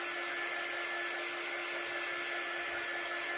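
A hair dryer blows steadily on a craft project, a constant close whooshing roar with a faint motor whine, unbroken and alone.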